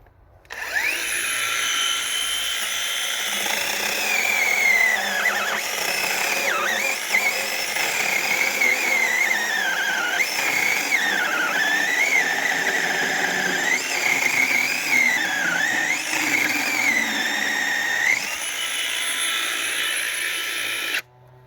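A brushless cordless chainsaw whines loudly and continuously through a 22 cm log, its pitch dipping and rising as the blade bogs and frees, then cutting off.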